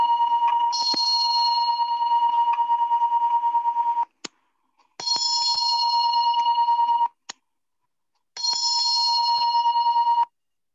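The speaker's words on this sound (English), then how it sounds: "This is the sound of bell." A loud, close bell rings in three long sustained bursts, each with a bright buzzing tone, separated by brief gaps with a few sharp clicks.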